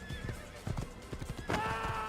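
A horse whinnying in Assassin's Creed, a loud shrill neigh near the end over a run of clip-clopping hoofbeats.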